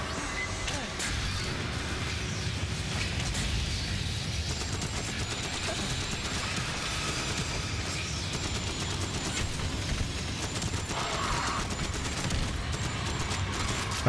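Rapid, continuous turret gunfire in the sci-fi shooter Aliens: Fireteam Elite, a dense clattering barrage running throughout with crashes and creature noises mixed in.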